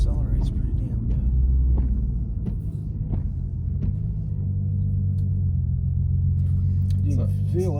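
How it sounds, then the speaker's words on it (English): Heard from inside the cabin, an Infiniti Q50 with a six-cylinder engine accelerates with a deep rumbling engine note that rises in pitch and eases off, while people talk over it. "Yeah, she accelerates pretty damn good."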